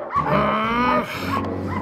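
A small dog, a little pooch, gives a drawn-out yipping bark up close and loud, followed by a softer whine, with no talk over it.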